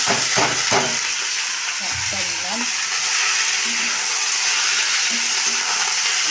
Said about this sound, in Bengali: এরপরে আমি শাকটা ঢেলে দিলাম।